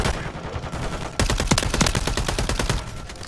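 Rapid bursts of Holger 556 gunfire in Modern Warfare 3, starting after a quieter first second and then firing loud, close repeated shots with short gaps.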